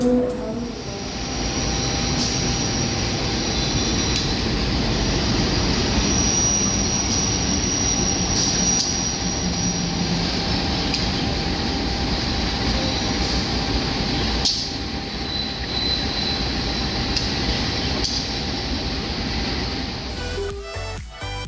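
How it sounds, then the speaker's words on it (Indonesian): A steady, loud rumbling roar of the Probowangi passenger train departing Surabaya Gubeng station, with a droning engine and a faint high whine, continuous throughout with scattered clicks near the end. "kereta api Probowangi diberangkatkan dari jalur nomor 6 stasiun Surabaya Gubeng"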